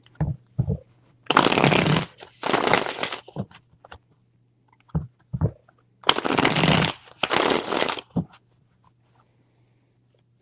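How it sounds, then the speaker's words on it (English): Tarot cards are shuffled in two separate pairs of quick, crisp riffling bursts, each with a few soft taps and handling noises in between and near silence around them. "Three shuffles in regards to the Virgo."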